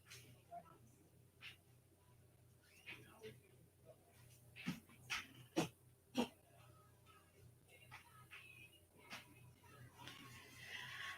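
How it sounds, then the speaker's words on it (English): Dogs indoors give scattered short barks and yips, several sharp bursts clustered in the middle, while someone talks quietly throughout. "my dogs was barking"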